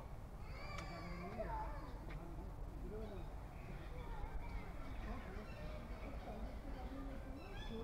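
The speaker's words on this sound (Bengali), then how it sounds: "যে পাখির ডাক আপনারা শুনতে পাচ্ছেন সেটা কিন্তু কোনো খাঁচার পাখি নয়।" Wild birds call from trees at Bardhaman zoo's forest-like grounds, a scattering of short chirps and warbles at moderate distance, with a person talking over them.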